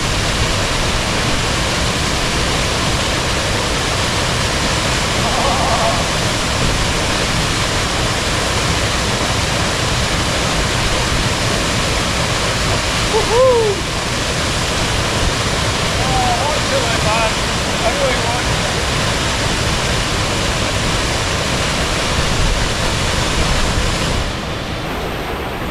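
A waterfall pours steadily into a plunge pool in a Scottish glen, a constant loud broadband rush that fills the whole scene with little change, a few faint bird-like chirps briefly rising above the roar midway.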